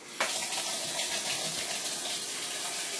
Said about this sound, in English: I'll wash my whisk off.